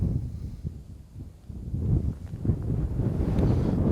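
A fair breeze rushes over open ground beside reeds and a small wood, a low blustery rumble that dips briefly, then builds and stays strong and close to the microphone.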